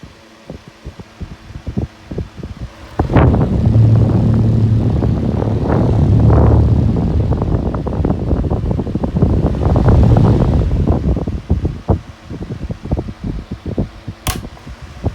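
An electric fan, one of the most powerful of its size in a collection, switched on to its low speed: a loud, steady whooshing roar with blade whir starts about three seconds in and runs continuously.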